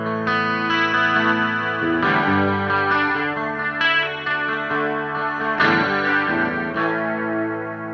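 Electric guitar played through a Black Country Custom Spiral Array chorus pedal from Laney, ringing chords and picked notes with a shimmering, swirling modulated tone, changing every second or two, loud and alone with no talk.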